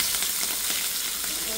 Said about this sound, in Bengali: এখানে 2টা মাছ ভাজতেছি, ইলিশ মাছ, দুটা ছোট্ট।